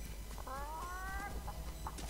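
A chicken in the Fortnite video game clucks in a short run of nasal, wavering calls over steady background game noise, moderately close and fairly quiet.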